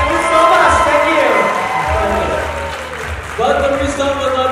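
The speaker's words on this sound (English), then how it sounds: "One more round of applause for all of them, please." An audience at a national costume competition applauds contestants, a broad wash of clapping and crowd noise filling the hall while a presenter speaks loudly over it.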